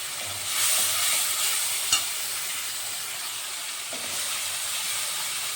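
A paste of chilli, cumin and coriander ground in water sizzles and fries in a pan for a cottage-cheese bhujia, with a steady close hiss and a spatula scraping and stirring through it, one sharp knock near the middle, no voices.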